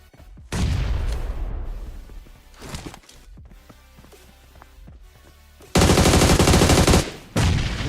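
A grenade blast bursts out during a PUBG Mobile esports match, followed by rattling automatic gunfire and scattered shots, then a second loud sustained volley of fire near the end, all close and heavy with no voices.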